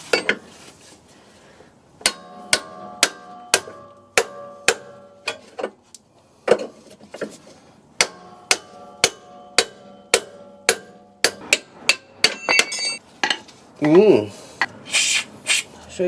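Hammer blows strike a seized front wishbone ball joint on a 2015 Ford Fiesta MK7, sharp metallic clangs ringing in steady bursts of several evenly spaced hits, close and loud, with brief pauses and a short voice near the end.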